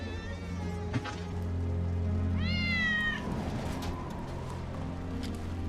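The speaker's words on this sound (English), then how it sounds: "Hear that? That's Wedge's cat." A cat meows once in the video game Final Fantasy VII Remake, a clear rising-falling cry over a steady low hum and ambient game music.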